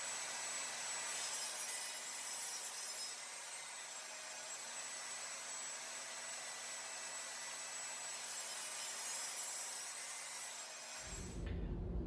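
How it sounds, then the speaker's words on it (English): A table saw on a cross-cut sled trims wood pieces for a pottery stool to length, a steady broadband whine running loud and unbroken for about eleven seconds before stopping with a low thump at the end. "My next step is to cross-cut them to the finished length. To do that, I'll use my cross-cut sled."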